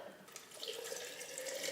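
White vinegar pours into a 3-cup wide-mouth glass mason jar, a soft continuous trickling and gurgle of liquid that grows slightly fuller as the jar fills. The sound is quiet and close.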